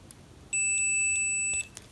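A single steady electronic multimeter continuity beep, high-pitched and piercing with harmonic overtones, lasting about a second against a quiet background with faint clicks before and after, while testing a single-pole light switch.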